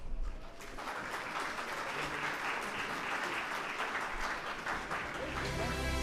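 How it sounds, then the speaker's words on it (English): Audience at a financial inclusion dialogue event in Pakistan applauds steadily, a dense, even wash of clapping that holds for the whole stretch without a break. "Please can we give them a round of applause?"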